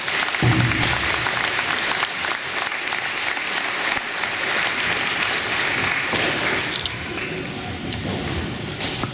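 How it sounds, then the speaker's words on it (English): Audience at a tribal council meeting gives veterans a round of applause after the colors are posted, a dense, loud burst of clapping that carries through without speech. "Give them a round of applause."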